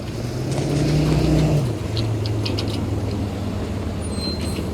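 A truck idling and pulling along a city street in Toronto's Trinity-Bellwoods neighbourhood on Dundas Street West, a loud close engine drone that shifts pitch midway, with a few faint squeaks over the steady traffic rumble.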